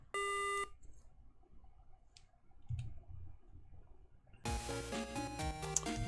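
Short electronic beeps and clicks from the Mega Man Battle Network 2 video game sound near and crisp, first a single tone and then a denser run of chiptune blips and music.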